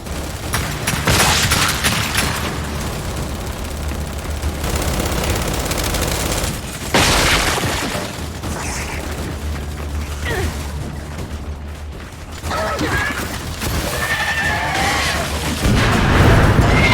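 Heavy turret gunfire in the video game Gears 5: long sustained bursts of rapid automatic fire with booming impacts and mechanical clatter, loud and near, briefly pausing and resuming, with occasional voices beneath.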